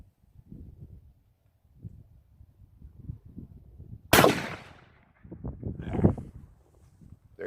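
A single shot shotgun fires one 2 3/4 inch, 1 ounce slug at a jug: a single sharp, loud blast that rings out, with talk murmuring before it and voices after.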